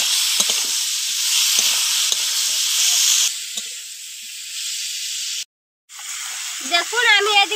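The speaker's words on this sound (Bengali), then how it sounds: "হলুদ, লবণ, ভালো করে সবজিটাকে কষিয়ে নেব।" Vegetables sauté in a pan with turmeric and salt for a katla fish curry, making a loud, hissing sizzle with stirring scrapes. It cuts out briefly, then the sizzle returns, and a voice is heard faintly at the end.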